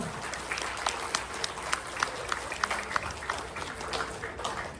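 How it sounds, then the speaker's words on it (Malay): An audience applauds after a story-within-a-story stage performance by arts and culture programme participants at an appreciation ceremony in Kedah, steady clapping with some sharper individual claps and a voice faintly underneath. "berikan tepukan yang paling gemuruh"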